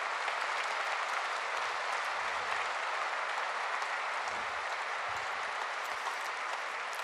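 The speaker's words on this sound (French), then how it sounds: "une salve d'applaudissements, parce que ça lui a vraiment demandé beaucoup de travail" An audience at a French-language gathering claps in sustained applause, a dense, even roar of many hands at moderate distance. It holds steady for the whole stretch.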